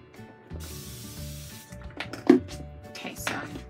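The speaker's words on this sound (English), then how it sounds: "And I'm going to respray it." Spray bottle misting water onto paper for mixed-media sunflower painting, a hissing burst near the start followed by clicks, handling noises and soft rustles close by.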